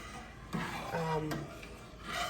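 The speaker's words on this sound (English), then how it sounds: "your spoon should be scraping the bottom of the pan" A spoon scrapes across the bottom of a pan while stirring milk for homemade yogurt, making a few quiet, brief rasping strokes close by.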